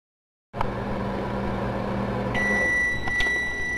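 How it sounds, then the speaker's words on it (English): A microwave oven starts up and runs, heating a bowl of soup with a spoon left in it, giving a steady mechanical hum with a fan whir and a higher tone that appears partway through. "I've got a cold bowl of soup here, and I'm leaving the spoon in as I microwave it."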